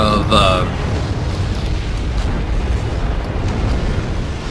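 Anti-aircraft fire brings down a helicopter in a wargame video game: a loud booming burst opens, then a dense rumbling roar continues steadily, with a commentator talking over it.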